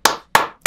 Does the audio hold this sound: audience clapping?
yes